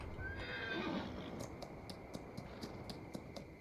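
A horse in the Farming Simulator 2019 video game gives a loud whinny at the start, then its hooves clip-clop in a steady rhythm, close and clear over a continuous low background.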